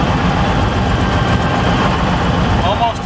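An aircraft engine on a Staggerwing fills the clip with a loud, continuous drone during a fuel system test as its fuel pressure and RPM drop, and the noise stays close and unbroken throughout.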